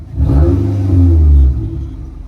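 A Nissan Altima engine revs loudly and steadily for over a second, then eases off, with a faint metallic exhaust rattle riding on the low exhaust drone.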